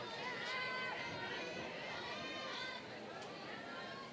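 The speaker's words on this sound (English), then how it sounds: "Really nice crowd on hand tonight as this series gets started." Crowd murmur and chatter fill the stands at an evening college softball game between Kentucky and Alabama, a steady, distant hubbub throughout with no single standout cheer.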